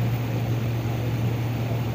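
Inside a small propeller plane in flight, a loud, constant drone with a steady low hum fills the cabin.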